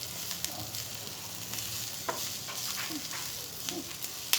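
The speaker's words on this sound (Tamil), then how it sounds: "இது எல்லா இன்க்ரீடியண்ட்டும் நல்லா சேர்ந்து ஃப்ரை ஆகணும்." Fried chicken tossed in a pan with other ingredients, a steady soft sizzle and frying hiss with occasional scrapes and clinks of stirring.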